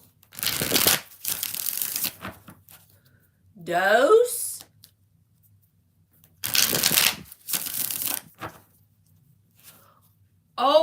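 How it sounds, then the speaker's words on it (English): A tarot deck is shuffled in several brisk riffling bursts, each lasting about a second, with someone speaking briefly between them. "We're going to shuffle it 3 times."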